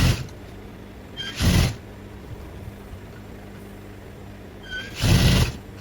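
A sewing machine stitches sleeves onto a hijab in two short, loud bursts of whirring, separated by a quiet pause with faint handling sounds.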